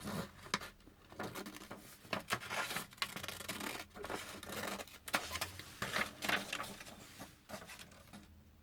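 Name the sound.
scissors cutting paper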